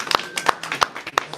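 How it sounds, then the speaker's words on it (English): Scattered claps from an indoor audience at a devotional gratitude gathering, a few sharp hand strikes spaced irregularly over about a second and a half, moderately close with faint voices around them. "So we're going to give him a big round of"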